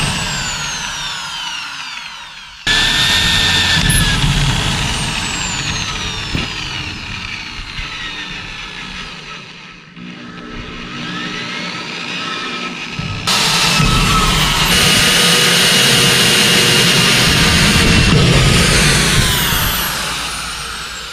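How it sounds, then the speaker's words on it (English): A power drill bores pilot holes in an RV door during hardware installation, running loud and steady in long bursts with pitch shifts as the motor loads and eases, no talk. "Okay, got everything pre-drilled."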